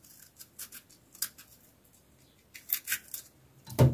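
Fresh garlic has its bearded root end trimmed off with a knife: a run of short, crisp snipping and scraping cuts close by, ending in a louder knock against the board, with no talking.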